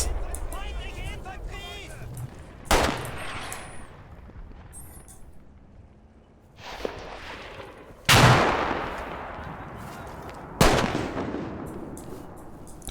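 Gunfire from the World War II strategy game Combat Mission Red Thunder at Seelow Heights: several sharp, loud rifle and gun reports spaced a few seconds apart, each trailing into a long echoing decay.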